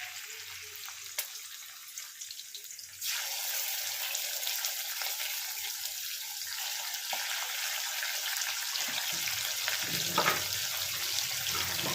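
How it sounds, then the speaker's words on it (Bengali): Salted, turmeric-rubbed prawns fry in hot oil, a soft steady sizzle that grows fuller after a few seconds and then holds evenly with faint crackles. "চিংড়ি মাছগুলো হালকা করে ভেজে নেব"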